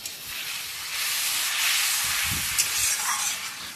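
Water goes into masala frying in a pan for a bata fish curry, and a loud hissing sizzle rises and holds steady for several seconds, close up, with a faint low stirring knock.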